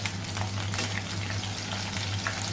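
Chicken 65 deep-fries in a pan of hot oil, making a dense, continuous bubbling sizzle with crackling pops. The sound is close and steady, with a low hum underneath.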